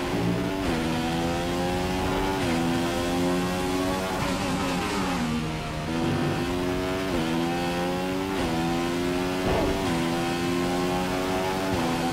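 Formula 1 car engine in the racing video game F1 2015 at a Russia race: a loud, continuous high-revving whine that repeatedly climbs and drops through gear changes, unbroken by talk.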